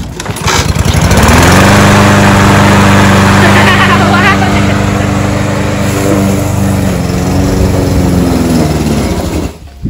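A lawn mower engine runs loud and close, a steady droning hum that holds for several seconds before winding down, with voices talking over it.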